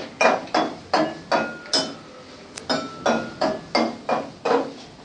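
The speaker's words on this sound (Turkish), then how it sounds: "Şimdi topakla vuracağım. Hangisinde en kalın," Glass bottles holding different amounts of water are struck one after another with a mallet, giving about ten clear ringing clinks at a steady, even rhythm, close and fairly loud.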